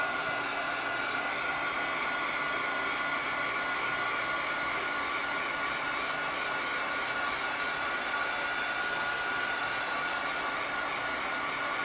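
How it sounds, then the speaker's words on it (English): A heat dryer roars continuously at close range, a dense, unchanging rush of blowing air with no voices. "Now this is a heat dryer, guys. It's just not a hair dryer."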